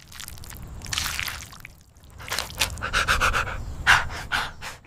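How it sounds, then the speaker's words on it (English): A small dog in an AI-generated Veo 3 scene, emerging from a spill of ketchup, pants in quick breathy bursts, with short wet sloshing and dripping sounds between breaths. The sound is near and clear, and no one speaks. "a small dog appears from a spill of ketchup, and you hear all the sounds"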